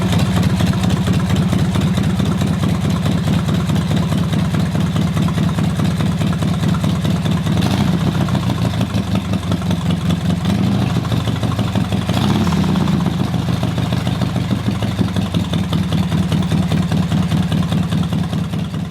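A custom motorcycle with an auto clutch idles steadily and loudly nearby, its rumble rising in two brief revs partway through.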